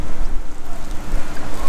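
Strong wind on the Nullarbor coast by the Great Australian Bight, loud buffeting gusts battering the microphone in a constant roar, close and without talk.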